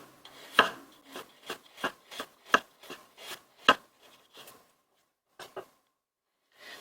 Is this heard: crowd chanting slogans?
no